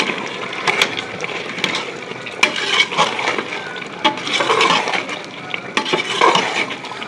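Coriander and mint being stirred into a Pakistani-style beef biryani mixture in a pot, with steady scraping and stirring over a soft sizzle, close and moderately loud, no voices.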